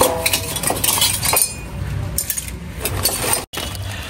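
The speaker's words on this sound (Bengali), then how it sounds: "খুবই সুন্দর চামচ, সোনালি কালার সেমাই খাওয়া চামচ" Golden-coloured steel dessert spoons clinking against one another in a few bright metallic chinks, close and fairly loud, over a busy background with no clear talk.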